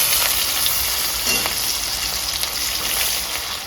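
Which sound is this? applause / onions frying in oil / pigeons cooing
onions frying in oil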